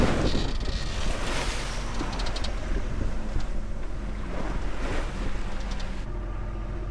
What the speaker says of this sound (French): Regardez les vagues qui sont en train de nous faire là, les gros bateaux.